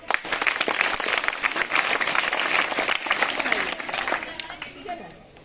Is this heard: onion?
no